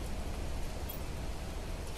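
Steady rain falls in the video game Planet Crafter, a soft, even hiss of broadband noise that holds constant without distinct drops or other sounds.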